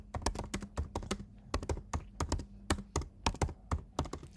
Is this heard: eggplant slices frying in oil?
no